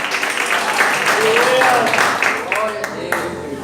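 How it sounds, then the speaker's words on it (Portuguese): A congregation at an Assembleia de Deus church service applauds, a broad, steady wash of clapping with voices calling out over it. "Pode aplaudir o Senhor por essa palavra."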